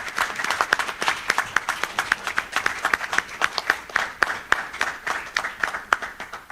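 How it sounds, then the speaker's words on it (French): Ceremony audience applauding at a sports draw event, rhythmic, fairly even clapping with distinct individual claps standing out over a softer crowd wash, sustained from start to finish. "je souhaiterais, avec votre permission, que nous applaudissions"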